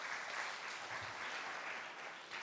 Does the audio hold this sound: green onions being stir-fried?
no